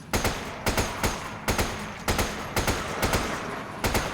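Gunfire in the video game Resident Evil 5: sharp bursts of shots in quick clusters, roughly eight evenly spaced volleys, loud and close with no voices over them.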